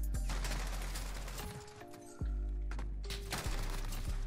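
Gunfire in the Call of Duty Modern Warfare video game, probably from a P90 submachine gun, comes as short bursts and sharp shots over a busy game soundscape, loud and close throughout.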